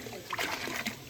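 Water poured and splashing during a post-wedding bathing ritual in the Konkan region, a brief soft splatter and trickle in two quick bursts, fairly quiet.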